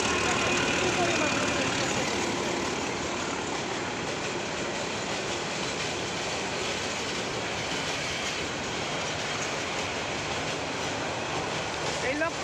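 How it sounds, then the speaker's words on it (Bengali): An old train runs in Bangladesh, its smoking engine and wagons giving a loud, steady, close rumble and rattle for the whole stretch. "এই লক্কর চক্কর ট্রেন এখনো আমাদের বাংলাদেশে আছে।"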